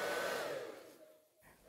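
A hair dryer blows on acrylic pouring paint with a close, loud whooshing whine that falls and fades over under two seconds as it moves away, then briefly rises again.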